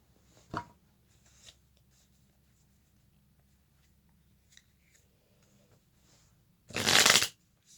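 A White Sage Tarot deck is shuffled by hand, with a brief riffle near the start, faint card handling in between, and a loud, dense burst of shuffling near the end against a quiet room.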